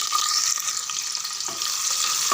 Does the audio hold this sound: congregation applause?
no